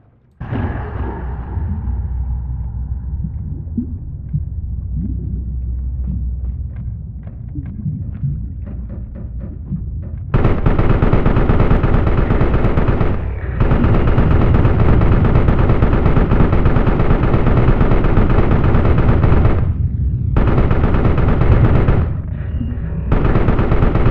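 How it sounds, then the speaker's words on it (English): Sustained automatic gunfire from a mind-controlled enemy soldier in the game Carrion, starting loud and continuous about midway with dense rattling bursts, a brief gap, then more fire over a low game ambience. "we're going to mind control this guy. And then he's going to go and shoot the rest of the guys"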